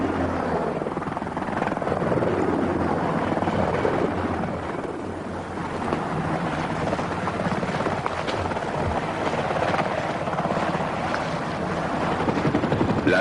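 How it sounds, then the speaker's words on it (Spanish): Military observation helicopters hover overhead in a steady, loud rotor drone with a broad rumbling wash that holds for the whole stretch, no voices over it. "Y por arriba flotan los helicópteros de observación, alerta para otear la reacción enemiga."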